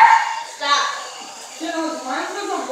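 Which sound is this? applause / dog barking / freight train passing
dog barking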